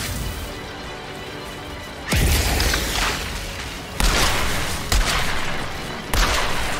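Four heavy pump shotgun blasts in the video game Outriders boom at irregular intervals, each loud crack followed by a ringing tail over a steady background hum.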